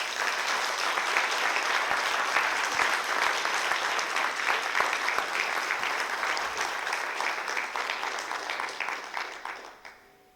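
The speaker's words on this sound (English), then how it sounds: "he probably deserves a round of applause anyway, guys" Sustained audience applause at an academic conference awards session, even and continuous clapping from a room of attendees that gradually thins and tapers off at the close.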